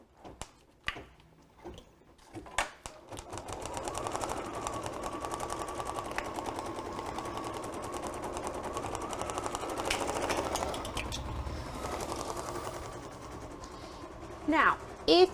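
A Kimberbell embroidery machine stitches steadily with a fast, even mechanical whir, running for most of the stretch at moderate loudness with a brief start and a few clicks near the end.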